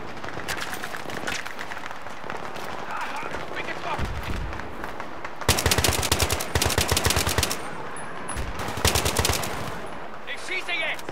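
Rapid bursts of automatic gunfire and explosions from Battlefield 3, a loud battle din with sustained machine-gun volleys and intense sharp crackling runs, under occasional speech.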